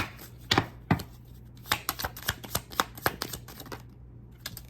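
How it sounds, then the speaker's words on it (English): Tarot cards being shuffled in quick, crisp bursts of riffling and slapping, close by, with short pauses between the flurries. "Let me shuffle. These cards going all over the place"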